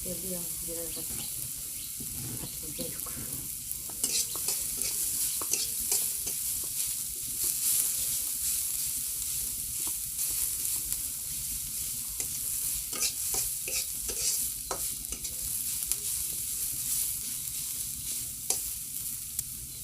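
Onions fry in oil in a pan, giving a steady close sizzle broken by repeated scraping and clattering stirs, with faint running water in the background.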